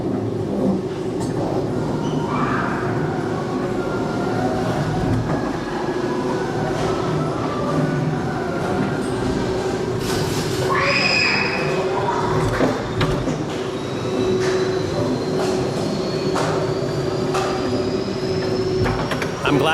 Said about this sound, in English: as I had no idea that that was a ghost train